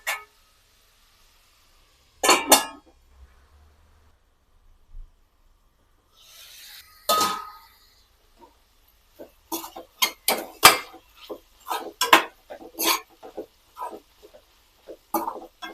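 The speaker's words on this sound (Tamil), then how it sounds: "இதையெல்லாம் சேர்த்து நல்லா வதக்கி விட்டுட்டு ஒரு 5 நிமிஷம் லோ ஃப்ளேமில் வச்சு காயை வேக வச்சுக்கலாம்" Carrots and beans being sautéed in a pan, with scattered metallic clinks and scrapes of a utensil against the pan in irregular bursts separated by near-silent gaps, close and fairly loud, with no talking.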